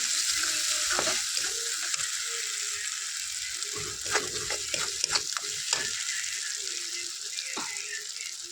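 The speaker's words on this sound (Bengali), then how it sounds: "এটাকে একটু ভালো করে মশলাটাকে কষিয়ে নেব।" Spice paste mixed with ground poppy seed paste sautéing in a pan for doi katla, a continuous sizzle punctuated by several sharp spatula scrapes and knocks against the pan, near and fairly loud.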